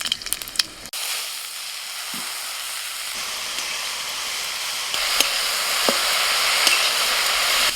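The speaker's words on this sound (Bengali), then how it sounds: "সরষের তেল দিচ্ছি এবার শাকটা ভাজবো শুকনো লঙ্কা সর্ষে ফোড়নে দিচ্ছি" Mustard seeds and dried red chillies sizzle and hiss in hot mustard oil, with a steady frying noise and a few sharp pops and crackles scattered through it.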